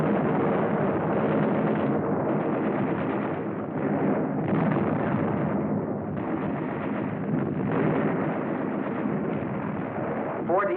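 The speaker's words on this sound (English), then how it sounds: "this assault engineer knows exactly where to put his high explosive charge in order to destroy the blockhouse." A high explosive charge set by an assault engineer blasting a blockhouse at Fort Eben-Emael in World War 2, heard as a loud, sustained roar of explosions and rumbling gunfire with no pauses.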